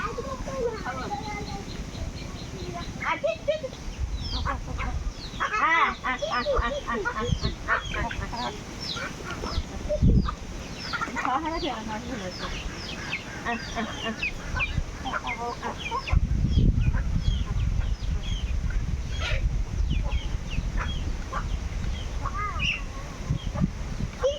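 Deshi hens cluck and call repeatedly in a rural yard, with irregular bursts of clucking and a few louder squawks, while people talk nearby.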